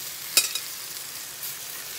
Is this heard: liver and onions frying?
yes